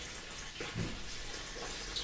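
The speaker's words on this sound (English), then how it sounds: "All this water that I'm pouring on the tank right now, it's actually from the 40-gallon frag tank" Water pours steadily into a 10-gallon saltwater aquarium, a faint continuous splashing rush with small gurgles, alone without talk.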